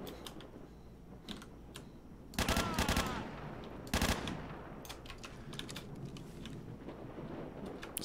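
Burst fire from a 5.56 rifle in S.T.A.L.K.E.R., two sharp multi-shot bursts standing out over quieter clicking and ambient game sound, no talk.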